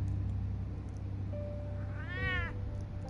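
A cat meows once in Batman: The Telltale Series, a clear rising-and-falling cry that stands out over a steady low game background hum.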